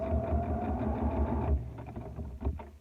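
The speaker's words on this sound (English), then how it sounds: "With right sides together, you're going to sew the rounded edge first." A sewing machine stitches the rounded edge of a fabric face mask, a close steady whirring run that breaks into short stop-start bursts partway through.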